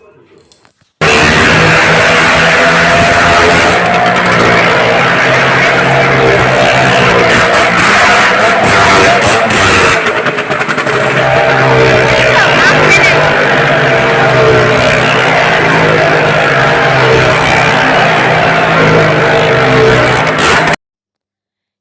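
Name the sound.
loud fairground ride running amid a crowd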